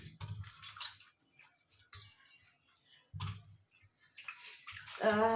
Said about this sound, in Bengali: এই যে জল আছে, একটু ধুয়ে নিই।